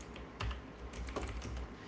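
A short command typed on a computer keyboard, a brief burst of a few close, quiet key taps, irregular and light, with no talking.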